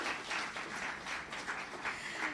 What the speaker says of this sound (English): Round of applause for that team too.